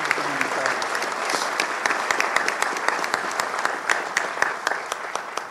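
Audience applause breaks out for Sheikh Mohammad Al-Bukai at a directors' handover ceremony, a steady wash of many hands clapping close by and moderately loud throughout, with no talking over it.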